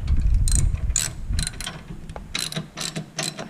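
A bike carrier's clamp mechanism is tightened, giving a series of loud, close ratcheting clicks in uneven bursts, with some low rumbling handling noise early on.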